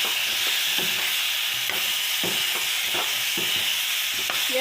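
Coriander powder is stirred into a sizzling mango and jaggery mixture in a pan, with rhythmic scraping strokes about every half second over a steady frying hiss.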